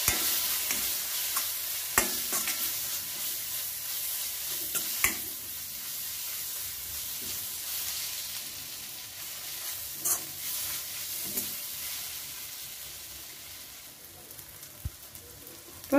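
Quiet, steady sizzle of spice powders including coriander powder frying with tomato in a pan for masala sundal, with scattered scraping clicks of a spoon stirring throughout.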